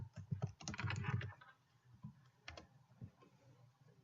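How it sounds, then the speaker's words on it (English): Someone types an email address on a computer keyboard: a quick burst of close key clicks, then a few scattered taps, all soft and with no talking. "You can type in your email address"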